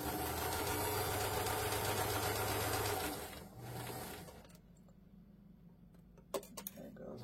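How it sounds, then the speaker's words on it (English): A sewing machine stitches fabric, a fast rhythmic mechanical whir for about three seconds, then a brief short burst before stopping, followed by quieter clicks and handling; a voice speaks over part of it. "I can sew all the way down, but I want to make sure that I stop where this pin is."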